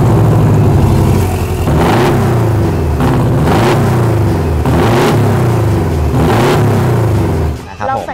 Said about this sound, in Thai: เวลาปรับมาที่โหมดสปอร์ตนะคะเสียงท่อจะมาแล้ว ขึ้นเลย